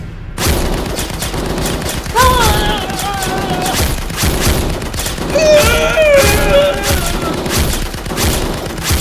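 Rapid gunfire rattles through a sci-fi horror audio drama scene, loud and dense bursts sustained throughout, with shouting voices and groaning cries layered over the barrage.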